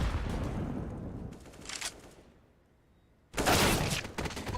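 Gunfire in a Counter-Strike match, sharp bursts of shots crackling in clusters, fading to near quiet before a loud, dense volley returns at the end.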